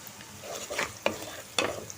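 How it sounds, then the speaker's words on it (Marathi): Onion cooks in hot tempering oil in a pan, a close, continuous sizzle broken by a few sharp scraping clatters from stirring. "तर आता हे फोडणीचं 1-2 मिनटं मी हा कांदा शिजू देते."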